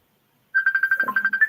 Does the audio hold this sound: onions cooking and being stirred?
no